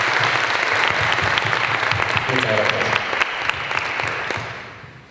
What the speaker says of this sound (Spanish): un aplauso por favor para esta profesora